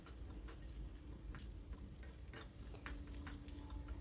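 Whole cumin seeds and asafoetida crackle in hot oil on a gas stove, a dense steady sizzle close by with scattered pops and light scraping.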